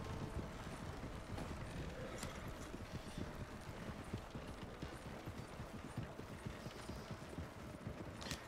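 Horse hooves clip-clop in the western roleplay game RedM, a quiet, steady run of rapid hoofbeats with faint creaks and mechanical rattles underneath, continuing evenly without talking.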